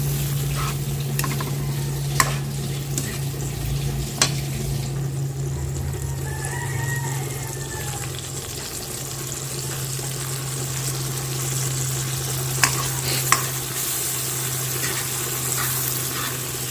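Egg being stirred and mixed in a hot frying pan, a steady sizzle with scraping throughout, while a rooster crows in the background partway through.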